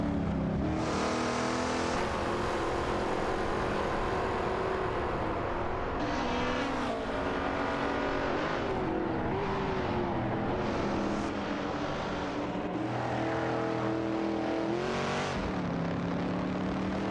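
Race cars roar continuously through an AI-driven car race, engines revving and shifting pitch as several cars overlap, with a steady loud drone that never drops out.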